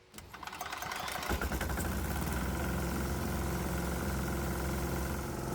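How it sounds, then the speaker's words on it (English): A small diesel engine fitted with a vaporizer, breathing semi-humid air from a bucket and driving a 70 amp load, starts up and settles into a steady, loud, even-running drone with a buzzy mechanical clatter. "the little diesel engine's running again"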